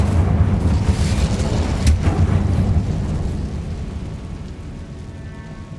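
Incendio fire spell cast in the video game Hogwarts Legacy: a dense, roaring burst with a sharp crack near two seconds, fading into a low rumbling tail.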